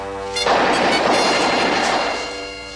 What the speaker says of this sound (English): Well, it sounds like machine gun fire, sir.